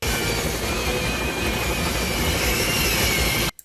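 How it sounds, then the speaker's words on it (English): Helicopter roaring through a tunnel in the 1996 film Mission: Impossible, a loud, dense, continuous rumble and whine with rushing air that holds steady before cutting off abruptly near the end. "Just flying a helicopter through a tunnel"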